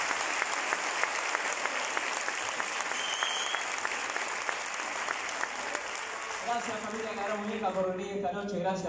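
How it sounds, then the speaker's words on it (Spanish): Audience applause at a carnival show, sustained and dense clapping from a large crowd that fills the whole span, with a voice talking over the final seconds. "Fuerte el aplauso para esta barra."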